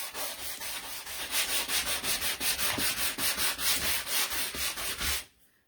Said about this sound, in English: Let me see if I can find a better sanding sponge.